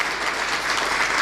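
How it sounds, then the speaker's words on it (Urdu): Congregation in a church service clapping together for the glory of God, a dense, even burst of applause from many hands throughout. "زوردار تالیاں خدا کے جلال کے لیے"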